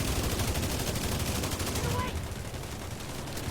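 Rapid gunfire fills a video game boss fight against Ricochet in a Dark Hours raid, dense and continuous for about two seconds before thinning into quieter background action.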